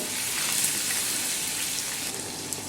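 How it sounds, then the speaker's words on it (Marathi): Ginger, garlic, green chili and curry leaves fry in hot oil with a dense, loud, continuous sizzling hiss that stays steady and close, with no voices. "आता हे चांगलं तेलामध्ये परतून घ्यायचं"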